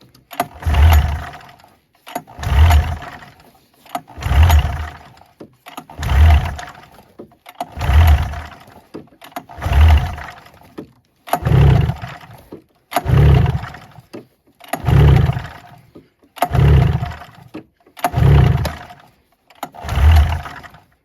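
An old snowmobile engine, worked on with old gas cleared out, is cranked over and over in a steady rhythm of about a dozen loud pulls or revving bursts spaced roughly every two seconds, close by with no talk.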